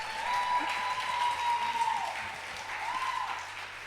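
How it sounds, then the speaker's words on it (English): An audience at an opening party gives a steady round of applause, a dense patter of clapping at moderate distance that carries on evenly for several seconds without talk. "Give a big round of applause."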